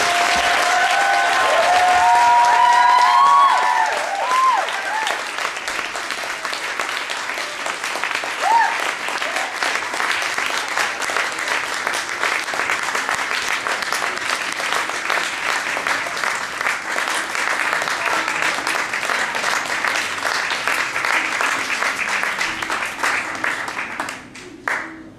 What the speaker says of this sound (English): I think we should have another round of applause